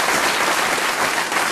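Studio audience applause for a band session at Maida Vale: sustained, dense clapping filling the whole stretch, loud and close, with no voices over it.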